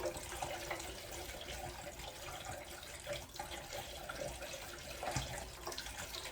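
Water pours into a motorcycle fuel tank for rust removal, a faint, continuous trickling splash in a shop, with no talking.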